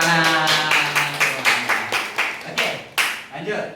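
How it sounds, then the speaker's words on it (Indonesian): A class claps in a roughly regular rhythm, about a dozen distinct sharp claps close by, with a voice speaking over the first part. "tepuk tangan."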